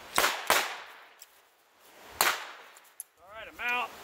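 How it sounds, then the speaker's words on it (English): Metallic clicks and clacks from handling a single-action revolver during a reload, several sharp separate snaps spread out with quiet gaps between them, followed by a brief voice. "I gotta reload the gun."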